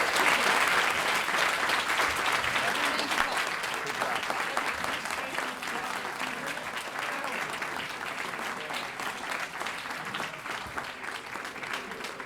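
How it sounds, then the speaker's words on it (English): A long, full round of applause from a Chicago City Club meeting audience, honoring Deborah Lynch, dense and steady throughout, fading slightly toward the end. "How about a big round of applause for Deborah?"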